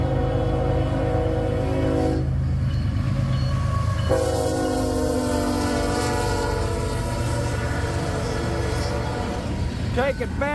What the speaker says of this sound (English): Take it back, it's a rubbish train.